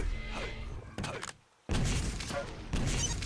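Rocket blast and game-combat thuds in a Quake duel, several sharp booming impacts and bursts in quick succession, one brief dropout of sound midway, with a commentator's voice partly audible underneath.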